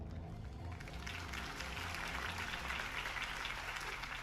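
Steady, dense crowd applause in the video game Batman: The Telltale Series, a continuous wash of clapping that holds at an even level for about four seconds with no voices over it.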